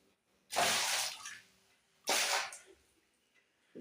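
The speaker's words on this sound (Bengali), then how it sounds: "এই জল দিয়ে ধুয়ে দিচ্ছি।" Two short bursts of running water splash over a dinner plate in a basin, close and fairly quiet, with a pause between them.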